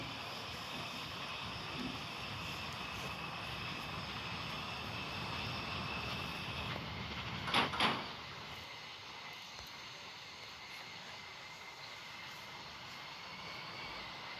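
An airplane engine in a video game drones steadily and loudly throughout, with a brief sharper burst near the middle before the constant roar carries on.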